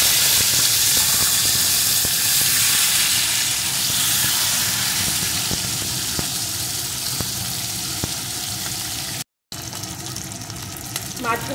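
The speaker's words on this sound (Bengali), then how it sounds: "মাছগুলোকে আমি একটু ভেজে নেব" Small fish frying in hot oil make a steady, loud hiss and crackle that fills the whole stretch, cut briefly near the end and then resuming.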